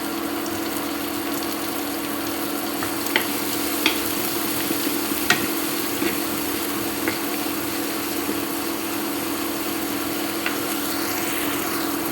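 Spices such as garam masala, coriander and asafoetida sizzle in a hot pan for paneer bhurji while a spoon stirs and scrapes, a steady frying hiss broken by a few sharp clicks of utensil on metal.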